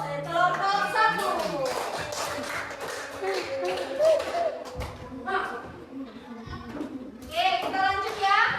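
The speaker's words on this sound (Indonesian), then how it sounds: "tepuk tangan untuk kelompok 1" A classroom group applauds a presenting group of students: scattered hand clapping mixed with children's voices, chatter and chuckles throughout.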